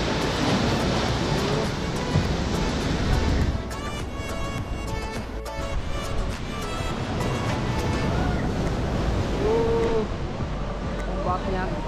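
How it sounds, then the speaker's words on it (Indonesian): Big ocean waves break on a rocky shore at Shek O, making a continuous loud, close roar of surf mixed with wind buffeting the microphone; a voice is heard now and then. "Ombaknya gede."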